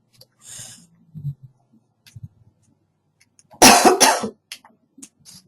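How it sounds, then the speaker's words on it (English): A single loud, close cough bursts out after a few soft mouth sounds and breaths, followed by faint clicks. "I had to cough real quick."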